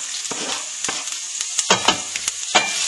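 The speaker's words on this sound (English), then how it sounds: "just put a little bit of oil on the bottom of your pan. And then you're going to add your onions and your garlic." Onions and garlic fry in a little oil in a pan, giving a steady loud sizzle broken by repeated stirring scrapes and pops, close up with no talking.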